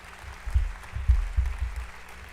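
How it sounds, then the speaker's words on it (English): An audience claps through a state-of-the-state address in Tennessee, a low, muffled patter of applause that swells in a few bursts and carries on steadily, with no voices over it. "they're all clapping"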